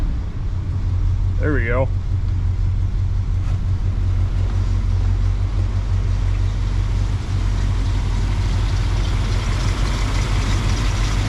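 A 1968 Chrysler Imperial with a 440 V8 idles steadily at a fast, high idle, a constant low rumble throughout with a compressor running and brief speech early on.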